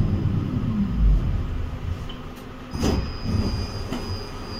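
A Moscow tram on route 50 rolls along its rails, wheels squealing in a high, sustained whine over the low rumble and clatter of the car, heard from inside.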